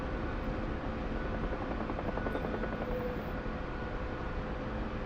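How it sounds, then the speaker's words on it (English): A Mi-28 attack helicopter flies in a video game, its dense rotor and engine roar a steady, loud wash with a faint rhythmic thrum, unbroken for the whole stretch. "Oh, here's that Mi-28."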